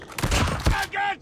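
Call of Duty gunfire crackles in a rapid burst of close shots with heavy thumps, followed by a brief shouted voice.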